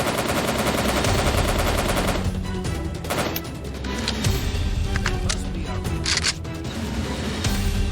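Sustained AK rifle fire in the Soviet Soldier video game, loud, continuous bursts of automatic gunfire filling the whole stretch with dense, close shots.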